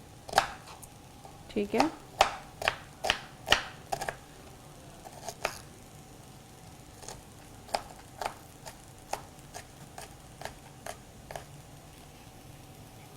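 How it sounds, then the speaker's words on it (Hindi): A knife chopping onion on a board in a cooking show kitchen: bursts of quick, sharp taps, then slower evenly spaced cuts, close and clear, with a brief spoken word. "दूसरी प्याज भी हम चॉप कर लेते हैं।"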